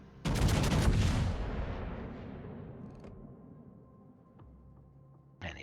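A single loud gunshot fired in a tank game, likely World of Tanks, booming sharply and rolling off into a long decaying rumble, with faint clicks afterward and a brief thump at the end.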